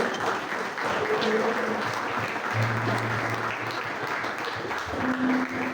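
Church congregation clapping throughout, a steady crowd applause with sustained music tones underneath and some voices mixed in.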